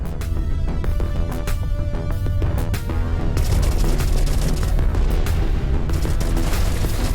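Spaceship strafing-run gunfire in the video game Everspace 2: dense rapid bursts of shots and booming impacts over a continuous heavy roar, loud and close, with no talking.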